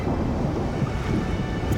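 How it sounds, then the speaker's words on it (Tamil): Strong storm wind rushes and roars continuously, loud and close, with a rough, gusting texture throughout. "காற்று தீவிரம் அடைந்து சூறாவளியின் வேகம் உச்சம் அடைந்தது"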